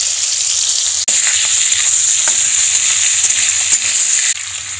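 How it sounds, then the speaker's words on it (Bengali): Chicken pieces with grated ginger fry in a pan to brown for a Bengali-style chicken stew, a loud continuous sizzle with occasional soft clicks of stirring. "আর এই জন্য মাংসটাকে এবারে একটু লাল করে ভেজে নিতে হবে"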